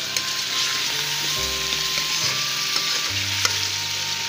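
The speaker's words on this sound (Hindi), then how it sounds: "ये ऑयल में इसकी भुनाई करूँगी" Chicken and peas masala fries in hot oil, a continuous crackling sizzle with occasional sharper pops and faint stirring, close and steady, with no talking.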